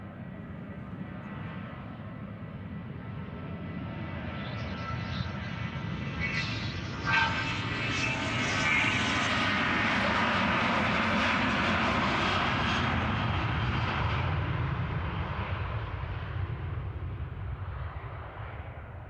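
A KLM Boeing 737-800 jet departs Amsterdam Schiphol bound for Göteborg, its engine roar swelling as it passes close, peaking midway and then slowly fading, a broad continuous rumble with no talk.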